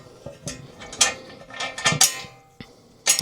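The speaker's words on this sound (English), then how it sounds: "I am going to start that bolt, that nut. Do the same thing on this side now." A bolt and nut are tightened by hand on a metal umbrella mount accessory, giving a series of irregular clicking, ratcheting metallic clacks and scrapes, close and fairly sharp, with no talk.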